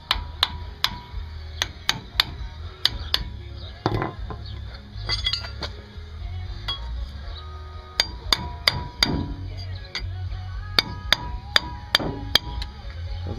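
A hammer strikes a steel spindle on a ball joint to knock it free, ringing out in many sharp metallic taps, sometimes in quick bursts of two or three, close and loud in a quiet workshop.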